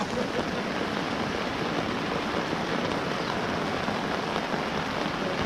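Heavy rain pours down steadily over flooded ground with rushing water, a dense, even hiss that holds at constant loudness throughout with no voices.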